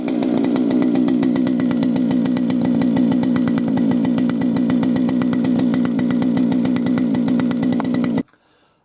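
A Stihl FS240 brush cutter's two-stroke engine runs steadily out on a lawn after a no-spark repair, a loud continuous buzzing drone close by that cuts off abruptly near the end.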